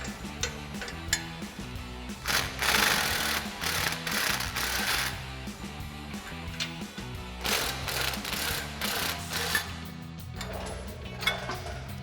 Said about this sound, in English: So now we're gonna remove these 2 bolts with our 14mm socket.